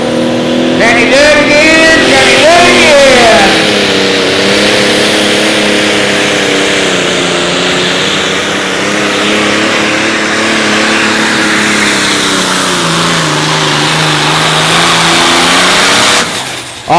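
A Pro Stock four-wheel-drive pulling tractor roars at an outlaw tractor pull in Wisner, Nebraska, its engine howling loud and sustained with shifting pitch for the whole run, a brief rise in revs near the start.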